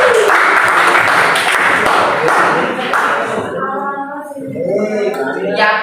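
A classroom crowd claps in applause after a group presentation, a dense patter that thins out as voices and chatter rise over it toward the end.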